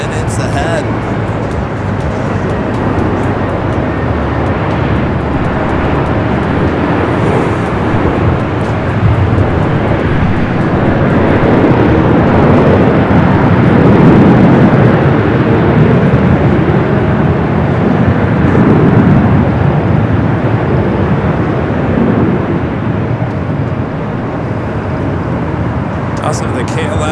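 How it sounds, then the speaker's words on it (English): A Qantas Airbus A380 arriving at Los Angeles International Airport from Sydney gives a loud, continuous jet roar that builds to a peak and then eases off, with a voice commenting throughout. "Qantas Flight 11 coming in from Sydney, Australia, the A380 Super."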